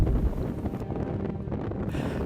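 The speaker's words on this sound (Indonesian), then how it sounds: "Angin kencang" Strong storm wind on Mount Kerinci, roaring and buffeting hard against the microphone as a loud, continuous gusty rush.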